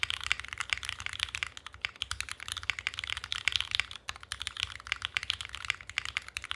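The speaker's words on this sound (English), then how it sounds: "aluminum bottom, aluminum top, you can actually get a pretty good sound out of it" Steady typing on a Mode SixtyFive mechanical keyboard with an aluminum case and brass back produces a dense run of quick key clacks at a moderate, close-up level, with no voices.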